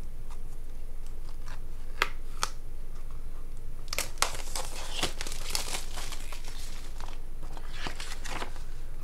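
Packaging for a Stampin' Up Paper Pumpkin card kit is opened up close, with loud bursts of plastic and paper crinkling and tearing, a few sharp rips early, then a dense stretch of rustling and handling.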